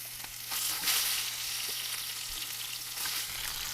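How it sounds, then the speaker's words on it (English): A rack of lamb searing in a pan on medium-high heat, a steady close crackling sizzle with occasional small pops throughout. "we got a pan on about medium-high heat. All right, I'm gonna get that other edge browned off."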